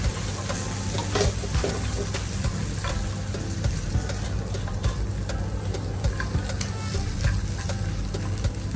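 Onions, peppers and frozen spring onions frying in butter in a pan, a dense, steady close sizzle with soft crackles and occasional stirring clicks, no voices.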